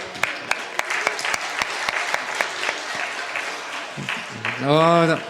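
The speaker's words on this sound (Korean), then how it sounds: "박수 한번 해주세요." Church congregation applauding at a couples' sermon, a loose run of distinct claps with a few sharp louder hits, ending as a voice starts speaking.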